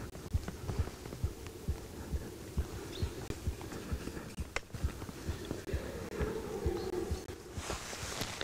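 A hunter's heartbeat, raised by adrenaline during a stag hunt, thumps low and steady in a regular pulse, close and muffled over a faint background hum.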